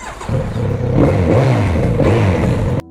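A Kawasaki Z900RS inline four-cylinder motorcycle engine revs up and holds a steady rumbling roar with rising and falling pitch, loud and close, then cuts off abruptly.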